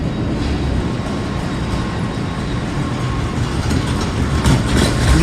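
Train standing at a Zurich Hauptbahnhof platform on a rainy day, a dense steady rumble of rail noise and station ambience close by, unbroken for the whole stretch, with no clear voices.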